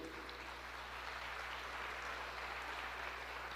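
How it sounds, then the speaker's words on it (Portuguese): Applause from a church congregation, a dense, steady patter of many hands clapping that fills the whole moment without a break. "Você pode aplaudir ao Senhor"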